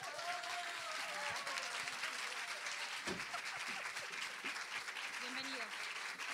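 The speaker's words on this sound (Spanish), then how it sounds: "Pido un aplauso para la señora Beatriz Argimón." An audience at an International Women's Day event applauds as Beatriz Argimón is welcomed. Steady crowd clapping runs throughout at a moderate level, while a voice speaks briefly over it.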